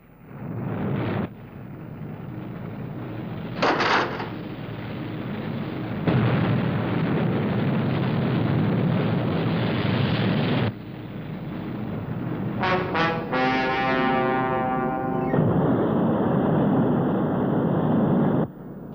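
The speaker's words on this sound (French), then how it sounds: "Mise à feu." A rocket engine ignites at launch in a 1962 science-fiction TV series, a loud, sustained roaring blast with sharp bursts and shifts that carries on for the whole stretch.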